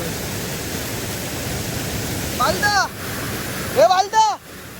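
Steady broadband rushing of a waterfall fills the scene at close range, with a couple of brief bird-like chirps or squeaks cutting through near the end.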